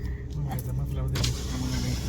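A Suzuki Jimny rolls along a mountain road toward the Rohtang Pass in monsoon, giving a steady low engine hum and road rumble heard from inside the vehicle, with a few faint clicks and a voice over it.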